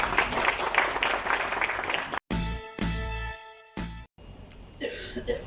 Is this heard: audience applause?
yes